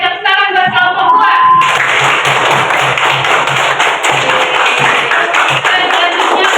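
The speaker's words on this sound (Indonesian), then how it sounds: "Oke, tepuk tangan buat kelompok dua." A classroom of students in a madrasah in Gorontalo applauds a student group, with dense, loud clapping running steadily for several seconds after a brief spoken line.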